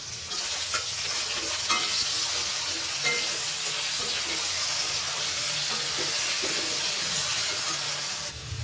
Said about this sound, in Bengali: একটু আলুটা ভেজে নেব। একটু নুন আর অল্প করে একটু হলুদ দিয়ে একটু ভাজা করে নিই।